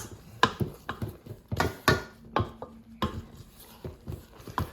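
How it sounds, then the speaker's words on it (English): Dry and wet cake batter being mixed in a bowl for Jamaican rock cakes, with uneven clinks and scrapes of a utensil against the bowl in close, irregular strokes. "then I add my dry ingredients to the wet ingredients and mix"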